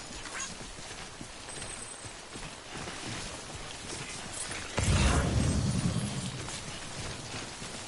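Rain falling in the video game Death Stranding, a steady hiss of rainfall with a louder, heavier gust of rain and rumble partway through, no talking.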